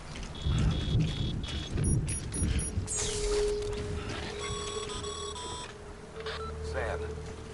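Timefall rain in the Death Stranding video game falls steadily with low rumbling thunder beneath, while electronic beeps and game interface tones chime intermittently over the downpour.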